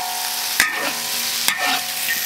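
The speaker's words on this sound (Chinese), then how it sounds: "再炒一下啊。 再来几粒的红椒" Eel stir-fried with red chilies in a wok gives a constant bright sizzle, broken by two sharp scraping clacks of the spatula against the metal. No voices are heard.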